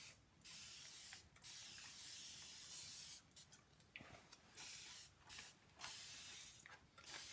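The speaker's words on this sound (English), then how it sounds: "I'm using my little mister bottle, and I really do love this. I just think it's fabulous. I'm just gonna mist the whole thing." Water misted from a small spray mister bottle over an inlay on a tray, heard as about seven short hissing sprays of uneven length with brief gaps, close but quiet.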